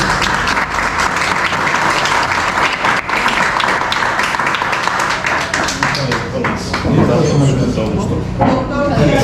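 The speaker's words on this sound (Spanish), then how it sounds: "No, un aplauso." Steady audience applause at a Spanish-language talk on prostate cancer, dense clapping filling the whole stretch, with voices speaking over it toward the end.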